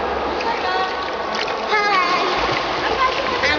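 A child swims in water, splashing in a continuous churning wash up close, while voices talk and call out over the splashing.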